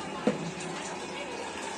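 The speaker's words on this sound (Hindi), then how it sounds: "ये गीजर मैंने इधर कनेक्शन करवा लिया, इसमें बहुत गर्म पानी आता है" Hot water from a geyser-connected kitchen tap runs in a steady, soft stream for washing greasy dishes, faint and continuous with a brief clink near the start.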